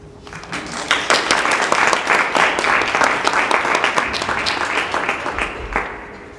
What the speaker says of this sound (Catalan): I un aplaudiment si us ha agradat.